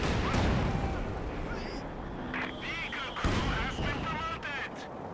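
Artillery gun fire and explosions in the Company of Heroes 2 real-time strategy game, a few heavy booms spread over a dense battle soundscape with other in-game effects layered underneath.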